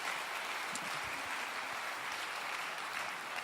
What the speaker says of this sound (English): Why don't you give Heather Robertson a round of applause?